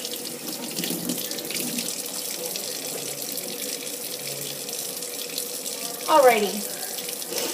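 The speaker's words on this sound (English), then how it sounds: "I'm going to wash my hands just to get that stuff that I already got all off my hands" Warm water runs from a tap into a sink while hands are washed, a steady close splashing flow with a brief surge of splashing near the end. A voice speaks briefly at the start.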